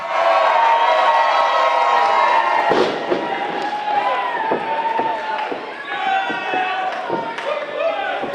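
Crowd cheering and noisy roar fill the Casa Loma Ballroom at a live wrestling event, loud and sustained throughout with scattered sharp bangs and shouts in the mix.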